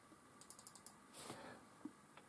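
Keys tapped on an Amiga 1200 keyboard while entering a web address: a quick run of six or so faint clicks, then a short muffled rustle and a couple of isolated taps in a quiet room.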